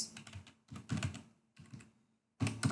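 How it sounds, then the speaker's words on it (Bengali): Computer keyboard keys pressed in quick bursts while coding a Java Swing program, clicky taps arriving in three clusters with short pauses between, close and moderately loud. "অল্টার এন্টার এন্টার চেপে"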